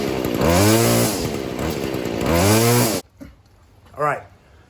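A Stihl FS 40c weed eater engine, freshly carburetor-tuned, revs up twice in loud close blips that rise and fall back, then cuts off, with a short voice afterward.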